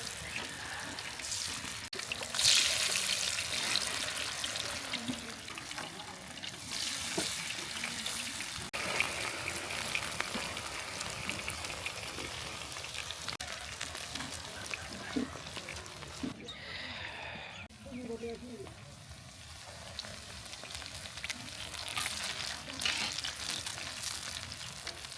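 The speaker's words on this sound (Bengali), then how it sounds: "আপনারা দেখতে পাচ্ছেন আমরা ফুলকপির পাকোড়া ভাজতেছি।" Cauliflower pakoras fry in hot oil with a continuous crackling sizzle throughout, broken by occasional stirring and scraping, and a voice speaks now and then over the frying.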